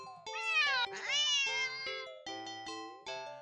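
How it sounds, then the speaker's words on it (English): A cat lets out several sharp, insistent meows in close succession, some rising and drawn out, heard near and alone. "the cat meows sharply at you and dashes off around the corner into the hall"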